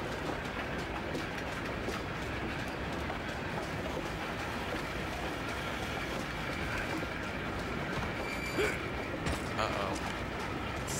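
Steam train in the PS2 game Red Dead Revolver pulling away, a steady rolling rumble with faint clacking and a few metallic clanks, continuous throughout at moderate level.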